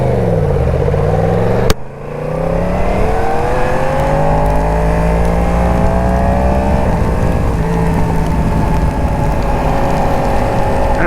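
A 2022 Yamaha MT-10 SP motorcycle accelerates in a thunderstorm with a loud, close engine whine that climbs through the gears after a sharp knock, under steady wind and rain rush.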